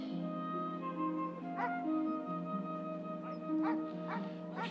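Several dogs performing tricks at a show give a few scattered yips and barks, fairly faint over sustained background music.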